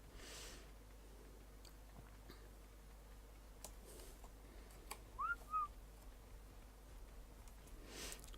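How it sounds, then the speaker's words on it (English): A short two-note whistle calls a tamed dinosaur in the ARK video game, brief and faint over a quiet background hum with scattered ticks. "I'm just going to whistle her over to me"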